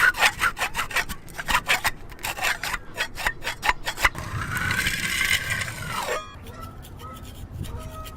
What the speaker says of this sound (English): The paint that's just kind of chipping away with one of these scrapers here